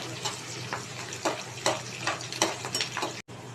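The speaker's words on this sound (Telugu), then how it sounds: "పచ్చిమిర్చి ఎర్రగడ్డ వేసి కరివేపాకు కూడా వేసి మంచిగా ఫ్రై చేస్తాం" Green chilies, onion and curry leaves fry in hot oil in a pan for a Telugu fish curry, a steady close sizzle broken by the scrapes and clicks of a stirring spoon, with a low hum underneath.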